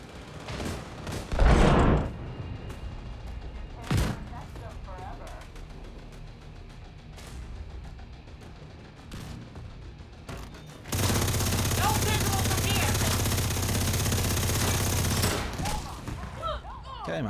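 Gunfire in The Division 2 during a team fight, with scattered shots and impacts early on followed by a long dense stretch of sustained automatic fire, steady and loud, while players call out over voice chat.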